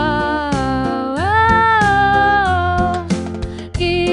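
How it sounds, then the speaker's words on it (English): An eerie, woman-like singing voice from a custom monster in an emergency alert scenario wails in sustained, sliding pitches over a low droning backing, loud and continuous. "If you hear a woman-like voice singing,"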